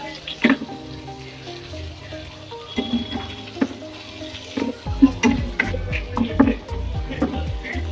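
Surmai fish with lemon and spicy masala sizzling as it fries in a pan, with soft stirring and scraping as pieces are turned, intermittent clinks and a voice speaking over the steady frying.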